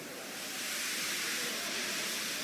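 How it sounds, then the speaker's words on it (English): A steam engine lets off steam in a soft, continuous hiss that swells slightly and holds steady, with no voices. "He just let off steam feebly."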